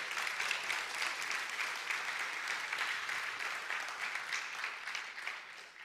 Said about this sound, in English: Most congregations should not give applause to their pastor's rant,